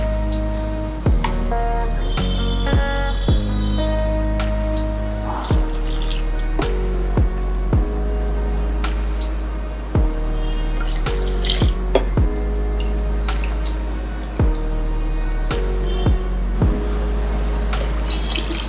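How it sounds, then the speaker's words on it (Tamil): Tamarind water is poured into a pot of sambar rice during home cooking, a steady splash of liquid running throughout with scattered clinks and knocks, and no talk. "அந்த புளி தண்ணியும் ஊற்றிடுங்க."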